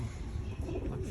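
Soft cooing from very young pigeons in a loft, not yet flying, heard as low, close, murmuring coos that run continuously through a brief moment.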